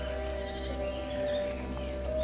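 Goats bleat in a continuous wavering chorus, loud and close, with a steady low drone underneath.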